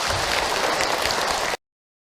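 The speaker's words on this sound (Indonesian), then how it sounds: "Tepuk tangan buat Bunda yang bertanya." Applause from an audience at an Islamic religious talk, honoring a woman who asked a question; dense, steady clapping fills the moment at even loudness, then cuts off abruptly.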